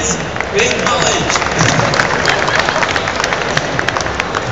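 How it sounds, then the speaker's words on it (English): Steady applause from a crowd, dense clapping mixed with cheering and murmuring voices, sustained and fairly loud throughout. "Give a round of applause for his big knowledge."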